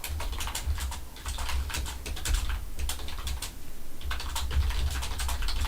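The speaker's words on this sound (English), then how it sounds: "Sorry, I'm typing something." Rapid, steady clicking of computer keyboard keys, close and fairly loud, with brief pauses between bursts of typing and no talking.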